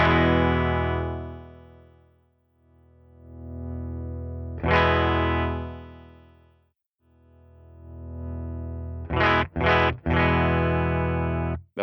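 An EVH SA-126 electric guitar on its bridge pickup rings out through a distorted, high-gain tone, with long sustained chords fading out and a few sharp, quick stabs toward the end, played alone.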